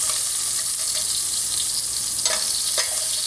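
Sausage browning in a pan gives a steady, even frying hiss throughout, with a couple of faint spoon scrapes near the end.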